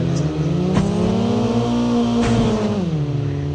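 A car in Call of Duty Mobile drives steadily with a loud, close engine drone that holds a constant pitch, then dips slightly in pitch near the end, with no talk over it.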